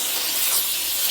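A Wagner Spraytech 915e on-demand steam cleaner hisses steadily as it steams hard-water deposits out of a tray, a short continuous close spray.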